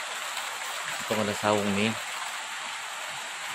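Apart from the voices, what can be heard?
rain falling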